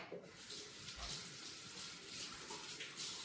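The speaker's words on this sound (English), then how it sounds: "I'm gonna just rinse this off because I don't know that I want the taste of seasoned salt in my fish" Fish is rinsed under a running kitchen tap, a faint, steady gush of water with a slight splashing texture that holds evenly from start to finish.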